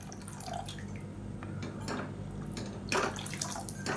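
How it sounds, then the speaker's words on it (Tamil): Water is poured into chutney cooking in a pan, giving soft, intermittent drips and light splashes with a brief louder pour near the end, quiet and close, with no speech. "இந்த ஸ்டேஜில் தண்ணி சேர்த்துக்கலாம்"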